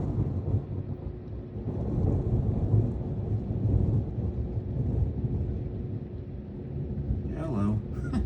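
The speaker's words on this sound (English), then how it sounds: "as you can tell, we have a thunderstorm here" A thunderstorm rumbles over Edwardsville, Illinois, with a continuous low roll of thunder and rain noise that fills the whole stretch. Someone talks over it near the end.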